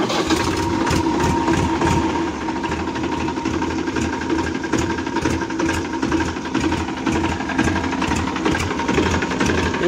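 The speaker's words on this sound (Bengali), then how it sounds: "ইঞ্জিন সাউন্ডটা মোটামুটি ভালোই আছে," A new-model Tafe 7250 DI tractor's diesel engine running, with a rapid, steady mechanical clatter of regular knocking pulses, close and even, with no talking.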